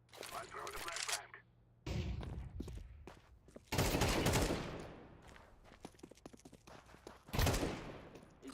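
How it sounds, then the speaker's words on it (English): A flashbang is thrown in the Counter-Strike video game, heard as a few sharp, loud gunfire-like bursts separated by quieter stretches of in-game noise. "I'm throwing the flashbang."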